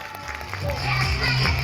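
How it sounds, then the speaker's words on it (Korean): Parents in a children's concert audience applaud, many hands clapping in a steady patter that grows a little stronger and stays under the general room noise. "어떻게 박수로 우리 친구들 칭찬해 주세요."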